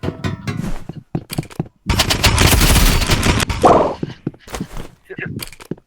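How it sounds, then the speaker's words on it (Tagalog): Rapid paintball gun shots in the Roblox game The Rivals, a sharp burst of firing in the middle amid game effects, with people talking over and around it. "Paintball gun."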